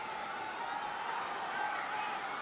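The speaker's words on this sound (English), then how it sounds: "listen to that crowd response now" A crowd applauds at a world table tennis championship semi-final between Ma Long and Fang Bo: a steady, dense wash of clapping and cheering that swells slightly midway.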